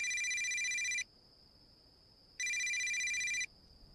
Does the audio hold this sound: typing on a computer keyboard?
no